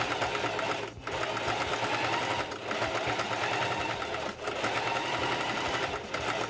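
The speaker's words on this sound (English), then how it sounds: "And now we'll just stitch them together." A sewing machine stitching a hoodie neckband, loud and close, running in long continuous bursts of rapid needle chatter with brief pauses between passes.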